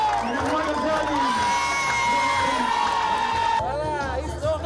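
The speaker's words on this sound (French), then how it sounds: "On peut les applaudir encore s'il vous plaît" A football crowd celebrates with its club, Hienghène Sport, loud continuous cheering, whoops and shouting with applause underneath, wavering voices rising and falling, then a sudden shift to brighter cries near the end.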